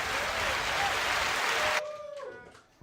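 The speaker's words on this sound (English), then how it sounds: "Big round of applause for the soundboard." Crowd applause from a live podcast show audience in a hotel venue, a burst of clapping for about two seconds that stops suddenly, followed by faint room sounds and a brief tone.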